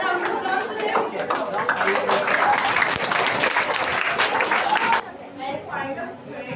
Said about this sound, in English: If we have a round of applause to them.